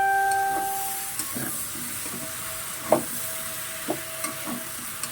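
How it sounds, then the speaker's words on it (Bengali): Partly cooked vegetables are turned in a hot pan after the lid comes off, a soft steady sizzle with a few irregular scrapes and knocks of the spoon, close by. "এবার আমি আবার একটু নাড়াচাড়া দিতে হবে"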